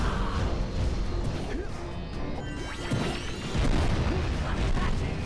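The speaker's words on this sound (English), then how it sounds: "Red will shoot out a bunch of these little clusters which will explode into shockwaves" Video game boss fight with small clusters bursting into shockwaves, a dense run of crashing, whacking impacts and booms piling up under game music.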